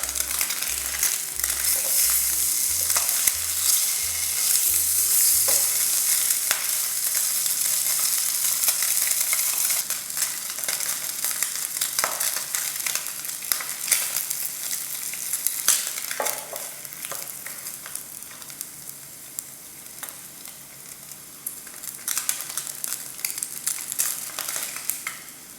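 Luncheon meat (SPAM) frying in a dry pan with no added oil, a steady, fairly loud sizzle and crackle that runs continuously, easing slightly toward the end, with no talking.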